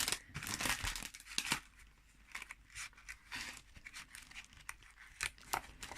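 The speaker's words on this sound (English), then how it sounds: "Sorry, crinkly paper" Wrapping paper from a swap gift bag crinkles and crumples close by in repeated bursts of rustling and tearing, with no talk.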